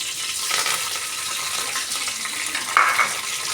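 Curry leaves and coriander frying in hot oil with fenugreek and cumin seeds while a murrel fish curry is being prepared, giving a steady close broadband sizzle throughout with a brief louder crackle near the end.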